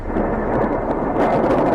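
Thundersnow, thunder during a heavy snowstorm near New York City and Philadelphia, comes as a deep, continuous rolling rumble. It swells toward the end, with no voices.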